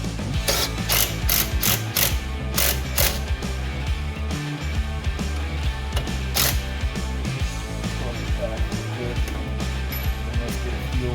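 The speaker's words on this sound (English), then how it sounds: "I am indeed going to tighten down the ball joint with a rattle gun" A rattle gun tightens the ball joint on an ATV control arm of a Honda Pioneer 1000-5, loud, fast mechanical hammering in repeated bursts with short pauses, close up.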